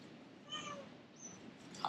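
A cat at a heritage village meows faintly a couple of times, short soft calls rising over a quiet hiss of ambient background, with no voices.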